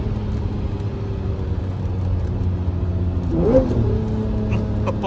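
A Lamborghini Murcielago V12 rumbles low and steady from inside the cabin, then swells briefly as the revs rise and drop on a downshift, the engine drone continuing underneath.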